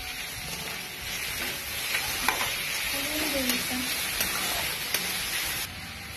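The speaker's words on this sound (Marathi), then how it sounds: "आता आपण ही अद्रक लसूण पेस्ट याच्यामध्ये टाकून घ्यायची आणि हलवायची" Ginger garlic paste fries in a pan for masala rice, sizzling steadily while a spoon stirs it, with light scrapes and taps against the pan.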